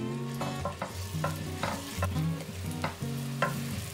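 Potato and cheese batter fries in plenty of cooking oil over medium-low heat, giving a soft continuous sizzle with a few brief scraping and stirring clicks, close and fairly quiet.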